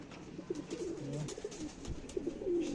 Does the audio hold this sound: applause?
no